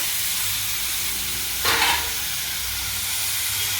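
Potatoes drop into hot oil in a home kitchen, setting off a sudden loud sizzling burst lasting about a third of a second before it settles back to a low steady frying hiss.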